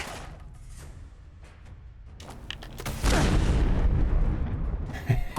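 Video game gunshots, a booming blast with a long rumbling tail following quieter scattered impacts, then a sharp final shot, with no talking.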